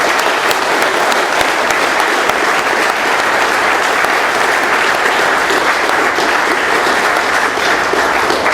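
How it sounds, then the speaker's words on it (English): A meeting audience gives speakers at an Alcoholics Anonymous gathering in Doylestown, Pennsylvania a round of applause: loud, steady, sustained clapping from a full room that continues unbroken for over eight seconds. "let's give one more round of applause to our speakers"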